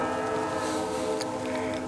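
Train passing in the Farming Simulator 25 game, a steady rumbling rail sound with sustained horn-like tones and a brief bell-like ping, continuous at moderate loudness.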